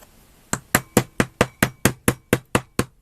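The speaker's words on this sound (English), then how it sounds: "We're going to try and hammer it into place." Eleven sharp, evenly spaced hammer taps drive a piece of a wooden pirate ship model into place, struck with a small hammer that has an attachment on its head; the blows are close, crisp and steady, with no talk.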